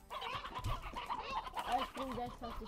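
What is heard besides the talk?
chickens clucking on a chicken farm in Slime Rancher video game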